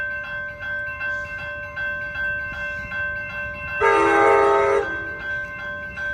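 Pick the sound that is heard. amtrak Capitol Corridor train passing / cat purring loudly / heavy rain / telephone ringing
amtrak Capitol Corridor train passing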